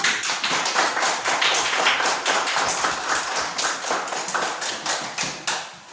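A school class of children claps hands together at a teacher's prompt, loud, close, steady rapid clapping that lasts throughout and tapers slightly at the end.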